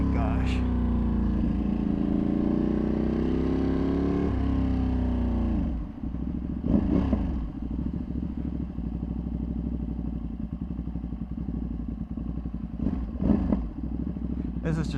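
Tuned Ducati Panigale V2 accelerating hard on a street, its engine note rising through the revs before a break, then a lower steady drone with brief sharp rev bursts. A rider talks over it.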